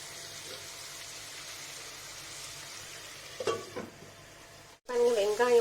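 Onions frying and being stirred in a pan for a spicy tomato gravy give a steady, faint sizzle, then a few louder scraping stirs near the end. A brief voice comes in at the close.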